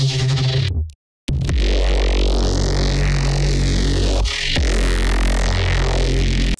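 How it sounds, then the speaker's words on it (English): Synth bass patch built in Bitwig, a loud sustained pulsing low drone with sweeping filter movement and gritty artifacts, broken by a brief silent gap near the start. "So here's a bass patch that I made,"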